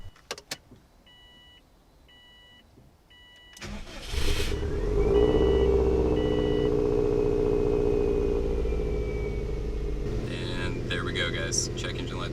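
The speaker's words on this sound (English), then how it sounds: "So I'm gonna go ahead and start it up and see if it worked." A Subaru WRX with a freshly flashed ECU starts: a few soft chime beeps, a short crank, then the engine catches and settles into a steady, fairly loud idle.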